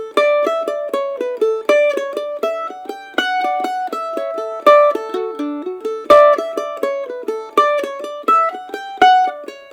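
Mandolin picking a lively Irish jig, with a stronger accent on the first beat of each measure, a quick unbroken run of bright plucked notes, close and clear with no voices.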